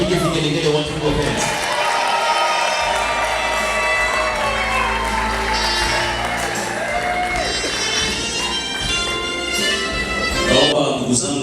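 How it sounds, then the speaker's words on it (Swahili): Wedding guests at a celebration in Goma, DR Congo, cheer and shout in a dense, loud crowd, with high trilling ululation woven through the noise and voices continuing throughout. "tupige vigelegele watu wote."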